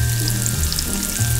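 Meat sizzling in olive oil on a tray for vitello tonnato, a steady close frying crackle with no talk.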